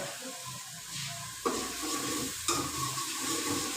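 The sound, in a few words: masala frying in ghee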